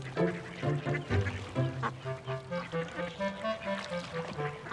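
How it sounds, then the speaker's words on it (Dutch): A duck with a red bill in a Teletubbies episode gives a run of repeated, close, rhythmic quacks with no talking over them. "Die eend heeft een rode snavel"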